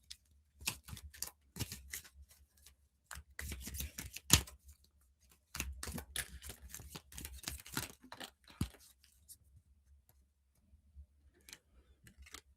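A tarot-style deck of cards is shuffled by hand in quick riffling and slapping bursts, with a couple of cards slipping loose and falling; crisp, close and quiet, with pauses between bursts and no voices.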